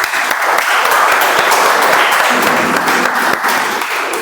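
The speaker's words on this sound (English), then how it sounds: "let's give a big round of applause for the two volunteers" Loud, steady applause from a meeting audience for two volunteers, dense clapping that carries on evenly for several seconds.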